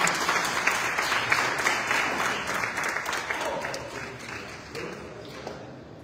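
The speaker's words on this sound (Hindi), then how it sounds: "एक बार जोरदार तालियां." Steady audience applause during a staging of the Marathi play Ghashiram Kotwal, a dense wash of many hands clapping at even loudness before slowly thinning toward the end.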